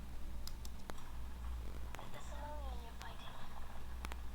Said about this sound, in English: if I zoomed in by pressing the plus button on the top right of my keyboard